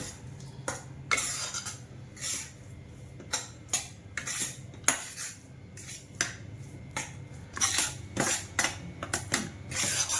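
A spatula scrapes and clinks repeatedly against a pan while ragi (finger millet) flour is roasted. The close, uneven strokes continue steadily with no talking.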